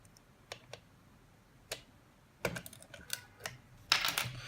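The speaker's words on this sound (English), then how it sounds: "Before powering the MDVR, let's insert the SD card inside." An SD card pushed into a vehicle MDVR recorder and locked in place: a few faint, scattered plastic clicks and taps, ending in a slightly louder snap-like rattle.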